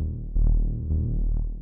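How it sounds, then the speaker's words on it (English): A three-voice Reese bass synth for drum and bass, with a little tube distortion and a low-pass filter, plays a deep, dark, smooth sustained tone with a couple of note changes, moderately loud and alone. "three voice Reese bass, because it's drum and bass, and that's the bass that you use."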